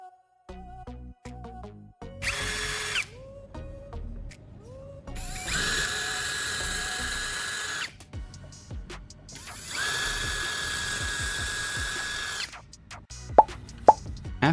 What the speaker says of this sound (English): After drilling pilot holes